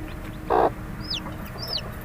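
A hen in a poultry farm gives one short cluck close by, followed by a couple of thin high chirps over a low background hum.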